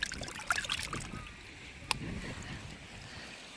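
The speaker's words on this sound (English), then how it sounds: "Let's rinse this off." A seashell being rinsed in shallow seawater on a Plum Island beach, with soft sloshing and a few small splashes over light wind noise, close to the microphone.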